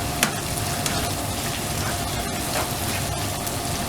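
Chopped medium onion frying in a spice masala for a chicken spinach curry, giving a steady close-up sizzle with faint crackles and no talk.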